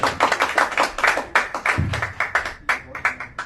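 An audience at an open mic stand-up comedy show claps for a comedian, with steady close hand claps forming a lively round of applause that lasts the whole span.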